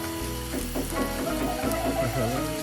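Masala with curd and chilli powder sizzling in a pan for mushroom biryani, a steady close frying hiss with crackles, along with a low background hum.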